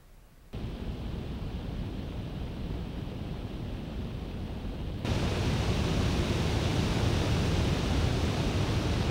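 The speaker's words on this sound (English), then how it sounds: "The fan noise annoyed me much less than the NUC12 Enthusiast, that's for sure." Steady broadband fan whoosh from a Minisforum NUCXi7 gaming mini PC, a constant airy hiss that steps up noticeably louder about halfway through, with no talking.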